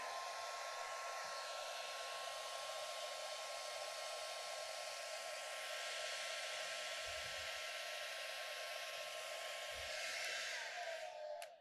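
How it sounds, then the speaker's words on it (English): A hair dryer blows steadily on a tacky painted surface, a constant close whir with a faint tonal whine that cuts off at the end. "Normally I would hit it with the hair dryer. In fact, I'll do that right now."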